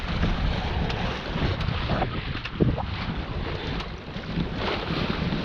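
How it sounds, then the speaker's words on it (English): A sailboat under way at sea in a steady breeze, sailing smoothly on a night passage from Grimsby to Lowestoft; continuous wind buffeting and rushing water fill the sound evenly with no voices. "But we're sailing well. Nice, smooth sail."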